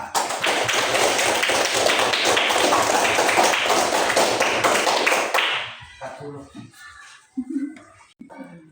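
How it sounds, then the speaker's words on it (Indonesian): A classroom group claps for a student team during a religious education lesson, dense steady applause for about five seconds, then it stops and a voice and scattered faint sounds follow. "beri tepuk tangan kelompok 1 atau kelompok Musa"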